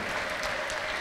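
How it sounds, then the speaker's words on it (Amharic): A church congregation gives loud, dense applause with a sustained ululating tone, praising the Lord at a prophet's service. "ለጌታ ከፍ ያለ እልልታና ጭብጨባ"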